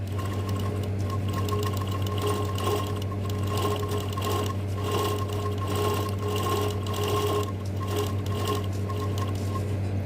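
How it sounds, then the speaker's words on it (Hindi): A sewing machine runs with a steady, continuous mechanical whir and hum while its handwheel is turned to set the needle on the mark, holding an even level throughout with no talking. "आपको जो मशीन का व्हील होता है उसको रोक के घुमा के सुई को एकदम निशान पे रखना है।"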